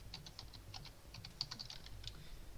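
Quiet, steady tapping on a computer keyboard while someone enters code for a simple Python calculator. The keystrokes come in an even run of soft clicks over a low background hum, with no talking.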